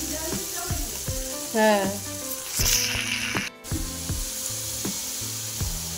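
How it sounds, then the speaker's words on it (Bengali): Ingredients for fried rice frying in a pan, a steady close sizzle with stirring and a few clinks of utensils, and a brief word spoken over it. "এই যে এগুলো সব আমি একবারেই ভেজে নিচ্ছি।"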